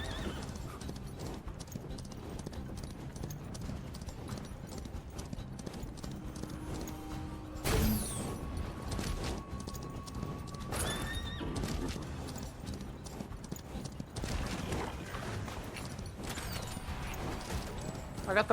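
A horse's hooves clip-clop and it whinnies in a chaotic western video game, with the hoofbeats running steadily and a loud neigh cutting through, all under game music and effects.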